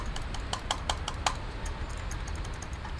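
Rapid irregular clicking of computer keyboard keys being pressed hard, a close series of sharp taps that bunch up early then thin out, over a low background hum.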